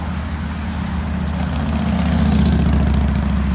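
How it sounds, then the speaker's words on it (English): A dump truck passes on busy 2nd Street in Coralville, a heavy low engine rumble that swells steadily louder as it nears, continuous and dominant with no talk. "You got, dump trucks like the one that went by."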